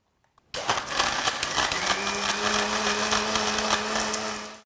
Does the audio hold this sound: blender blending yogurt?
yes